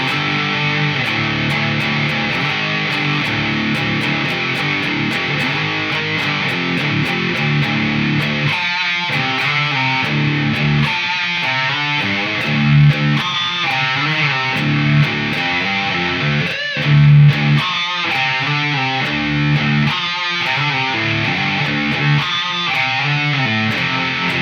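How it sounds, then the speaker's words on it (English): Electric guitar in open D tuning through an ADA MP-2 preamp on its Modern Dirt preset, loud distorted chords and riffs with chugging palm-muted passages and sustained ringing notes, played alone and up front. "let me get back to the Modern Dirt preset, and let's check that out. Right now this is an open D tuning,"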